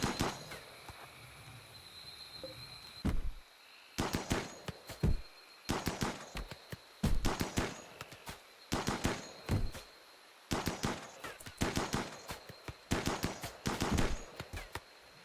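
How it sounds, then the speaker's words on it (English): Gunfire in the video game RimWorld as defenders shoot down fleeing attackers: repeated rapid bursts of sharp shots in clusters with brief pauses, continuing steadily throughout, with no talking. "putting them in a perfect position to gun down the fleeing attackers"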